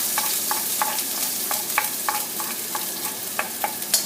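Stir-frying meat in a wok while making Thai duck larb: a steady hiss of frying with repeated scraping strokes of a spatula, roughly every third of a second, close and moderately loud.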